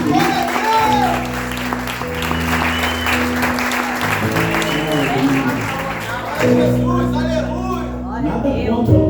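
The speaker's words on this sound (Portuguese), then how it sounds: "Você pode aplaudir a Deus por isso?" A church congregation applauds during a celebration service, a loud, sustained burst of clapping over organ or keyboard chords, with talk running underneath.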